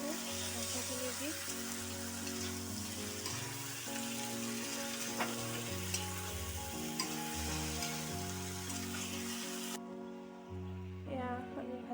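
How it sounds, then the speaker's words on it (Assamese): Goat head meat frying in a pan gives a steady, close sizzle and hiss throughout, with background music playing over it. "এয়া আমি ভাজি আছোঁ।"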